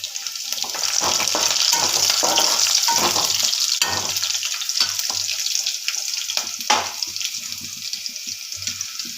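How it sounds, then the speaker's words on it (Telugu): Garlic cloves frying in a pan for an okra (lady finger) fry curry, a continuous close sizzle and crackle with occasional utensil clinks and stirring, no voices. "ఇలా వేయించుకోవాలి. ఒక 5-6 వెల్లుల్లిపాయలు ఇందులో వేసుకోండి."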